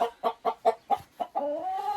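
Small ornamental chickens, a rooster and hens including an Araucana, clucking close by in a steady string of short, evenly spaced calls, ending in a longer drawn-out cackle.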